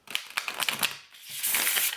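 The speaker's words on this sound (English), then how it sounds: "Let me try shuffle with these nails on." Small tarot-sized oracle cards from The Sacred Cycles Oracle deck are shuffled with long nails, a quick series of crisp papery clicks and flutters followed by a smooth riffling swish, close and fairly quiet.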